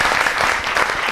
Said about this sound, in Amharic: አንድ ሞቅ ያለ ጭብጨባ አድርጉ።